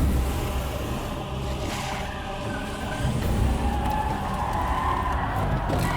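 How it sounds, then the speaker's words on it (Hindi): Several cars come up from behind in a movie chase, with a continuous roar of engines and tyres, some skidding, and rising and falling vehicle noise throughout. "वासु देखो पीछे एक साथ कितनी गाड़ियां आ रही हैं।"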